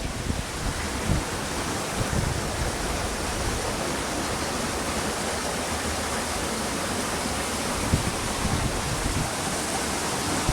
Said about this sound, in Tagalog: Kasalukuyan pa rin pong rumaragas ang tubig.